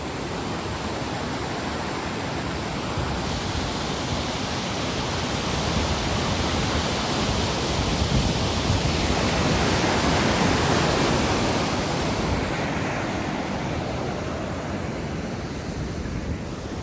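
Steady, loud roar of a river rushing in high flow, flushing large debris downstream, a dense broadband wash that holds constant throughout with no voices.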